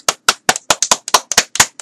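Two people clapping hands indoors, a quick irregular series of about a dozen sharp, close claps in under two seconds, with no talking between them.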